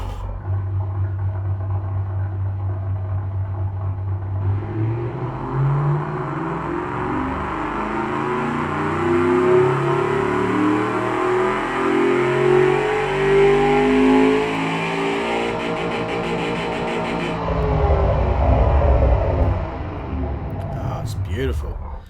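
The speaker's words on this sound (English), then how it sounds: "I'll let it do its dyno cycle" A simulated AC Cobra 427 Cammer engine making about 700 horsepower runs a dyno cycle in the Automation car game. It climbs in a long, loud, rising rev sweep for about seventeen seconds, then drops back to a deep idle rumble.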